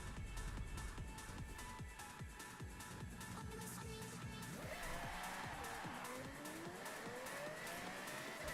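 A Pagani supercar driven in Forza Horizon 6, a high-revving engine drone with rising and falling gear shifts, tire noise and a pitch sweep as it accelerates, steady and fairly loud with no talk.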